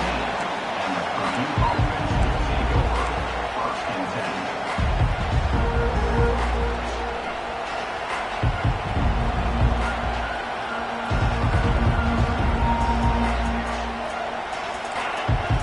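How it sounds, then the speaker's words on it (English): Stadium crowd roaring at a Purdue vs Alabama college football game, a loud, continuous wash of cheering and hubbub with swelling surges, under a commentator's voice. "This crowd bringing an ear-splitting welcome to their visitors."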